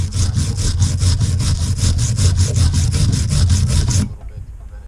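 A wire brush scrubbing rear brake parts from a 2011 Ford Explorer, with loud, steady rhythmic back-and-forth strokes that stop abruptly near the end.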